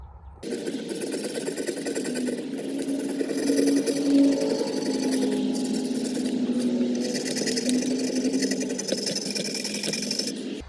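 Steady scraping and brushing with a new, larger brush on sludge inside the oil pan of a 1950 Dodge Meadowbrook, a continuous close rasp with a faint mechanical hum underneath throughout.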